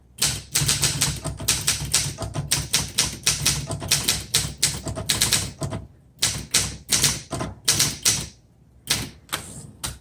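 A 1974 Olympia SM8 manual typewriter clacking out sentences in a fast, steady run of sharp key strikes, loud and close, with a brief gap and a few slower strokes near the end.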